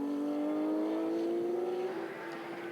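A GT race car accelerating at the Hungaroring during qualifying, a loud sustained engine tone rising steadily in pitch, with a brief dip near the end as it shifts, no talk.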